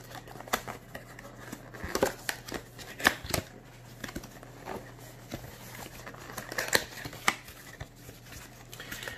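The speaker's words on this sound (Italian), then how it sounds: "apriamo la confezione" Close-up crinkling, tapping and sliding as the retail box of Mpow H7 Bluetooth headphones is opened and unpacked, with irregular sharp clicks and rustles scattered over a steady low hum.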